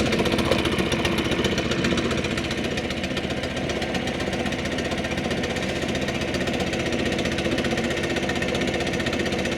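A Stihl BR550 backpack blower, a 4-Mix engine, idles steadily and up close, with a constant buzzing, knocking drone and no pauses throughout.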